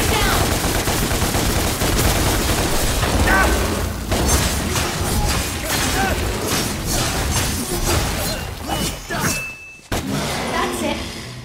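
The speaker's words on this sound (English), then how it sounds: "Now use your gun! Shoot him down!" Dense, continuous gunfire and booming impacts from the action video game DmC Devil May Cry, loud and layered with clanking effects, with a brief drop near the end before the barrage resumes.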